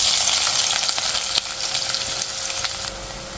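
Mustard seeds, cumin and onions fry in hot oil, a close, steady crackling sizzle with a brief stir partway through, no voices.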